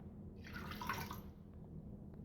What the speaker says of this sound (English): Start with a cup of water. We've got to get that in the Foodi.